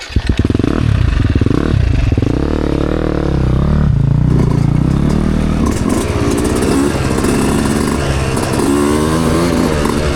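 A dirt bike with a low-compression engine roars loudly and steadily along a pretty trail, revving up and down with clattering mechanical noise throughout, close to the rider.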